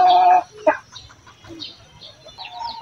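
Native chickens cluck on a farm in rainy weather, a loud burst of calls at the start followed by scattered softer clucks and faint background bird sounds.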